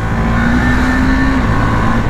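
KTM Duke 390 BS6 motorcycle engine held at a steady, smooth drone while riding, with a faint rising whine, loud and continuous throughout.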